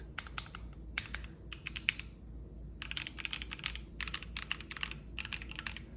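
Close, crisp typing on a Keychron Q6 mechanical keyboard with brown switches comes in quick bursts of clacky keystrokes, separated by short pauses, against a quiet room.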